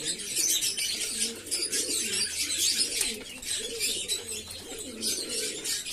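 A flock of pigeons coos steadily while being fed a multivitamin at Sunday feeding time, soft rolling calls overlapping continuously with bright chirps and rustling above, no voices heard.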